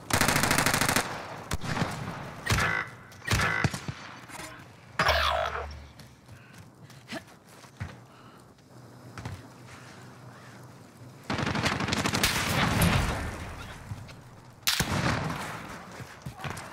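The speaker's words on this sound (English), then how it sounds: "Receiving hostile fire." Machine-gun and rifle fire in a battle-royale shooter, loud close bursts of rapid shots alternating with quieter gaps holding scattered single shots and in-game sounds.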